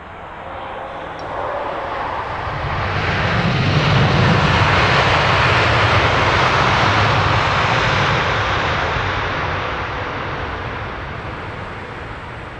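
An Air Canada airliner in blue livery passes at Heathrow, a broad jet roar swelling to a loud peak midway and slowly fading, with no voices over it.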